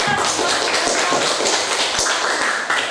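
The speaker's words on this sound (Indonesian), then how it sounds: "Mari kita berikan tepuk tangan" Students in a classroom clap their hands during a social studies lesson, a brisk patter of overlapping claps with a few sharper single hits, moderately close and without talk.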